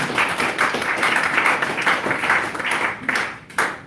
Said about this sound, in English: Maybe one more round of applause for Ben.